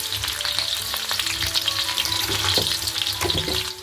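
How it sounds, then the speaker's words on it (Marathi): Green chillies frying in hot oil for a tempering, a steady close sizzle with crackling pops and light stirring scrapes throughout. "मी आधी मिरच्या चांगल्या तळून घेतल्यात तेलामध्ये"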